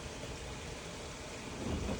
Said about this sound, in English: We got thunder and lightning pretty hard out here.